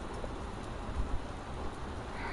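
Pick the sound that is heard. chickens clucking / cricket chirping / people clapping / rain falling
rain falling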